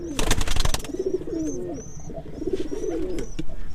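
Pigeons on a rooftop coo after drinking water, two clear rolling low coos standing out close by, following a burst of clicking noise, with faint higher chirps in the background.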